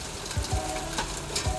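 Rain falling outdoors: a dense, steady patter and hiss close around, with a few louder drops landing on nearby surfaces, and no one speaking.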